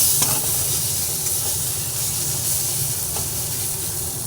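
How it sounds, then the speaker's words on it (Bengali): Spices and ingredients frying in a pan give a dense, continuous close sizzle and hiss with occasional stirring scrapes, loud and unbroken, no talking. "ভালোভাবে আবার অল্প করে ভেজে নেব"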